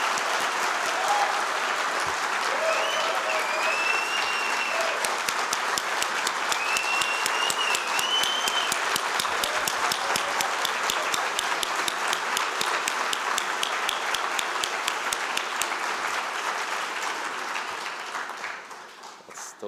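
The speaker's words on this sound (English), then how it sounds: "Let's give her a round of applause, please." Sustained applause from a conference audience fills the room at full strength, then thins and fades toward the end.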